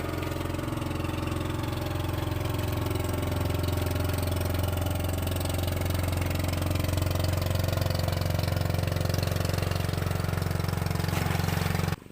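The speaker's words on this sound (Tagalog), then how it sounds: "Ayun, may motor pa dadaan mga kasinag." A motorboat engine drones steadily and close by at sunset in the countryside, a loud low rumble that grows slightly louder before cutting off abruptly at the end.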